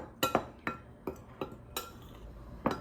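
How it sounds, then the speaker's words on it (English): A spoon stirring gluten-free muffin biscuit batter in a bowl, with sharp clinks against the side landing at uneven intervals, about eight knocks, close and alone. "now I'm going to stir this up really well before I put anything else in"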